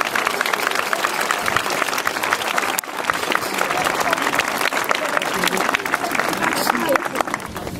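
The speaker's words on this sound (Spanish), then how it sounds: "Así que un aplauso para vosotros." An audience at a rural Asturian festival of sidros and comedies in Valdesoto claps loudly and continuously, a thick wash of many hands close by with a brief dip midway, voices mixed in underneath.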